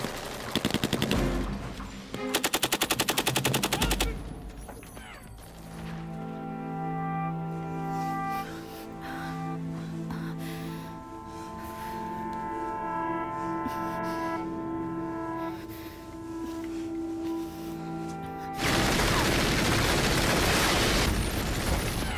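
Bursts of rapid machine-gun fire in a war action movie rattle loudly at the start and again near the end, with a stretch of tonal score and sustained effects in between.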